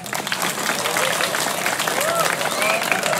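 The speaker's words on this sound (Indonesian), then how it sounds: "Tepuk tangan" Audience applause at a Balinese Calonarang temple performance at Pura Puseh: dense, steady clapping for the full stretch, with voices talking and calling out over it.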